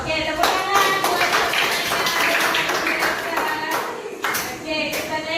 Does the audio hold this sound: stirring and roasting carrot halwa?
no